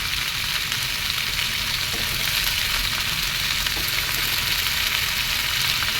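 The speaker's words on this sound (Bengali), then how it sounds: "আলুগুলো দিয়ে দেবো, কুমড়োগুলো দিয়ে দেবো।" Potatoes and pumpkin pieces frying with pumpkin greens in a pan, a dense, steady hiss of sizzling oil heard up close with faint stirring scrapes underneath and no talk.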